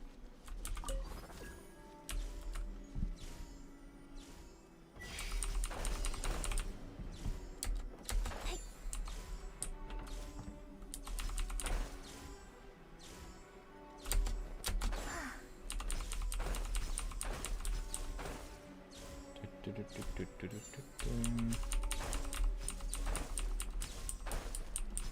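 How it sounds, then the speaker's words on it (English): Loud, continuous typing on a nearby computer keyboard during a Genshin Impact 2.5 stream, dense rapid keystrokes pausing briefly now and then, with game sounds faintly underneath. "Sorry if the keyboard's loud, I can't do anything about that."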